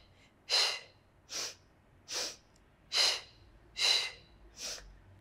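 Six forceful breaths during a leg exercise workout, evenly spaced about a second apart, each a loud airy puff close to the mic with quiet pauses between.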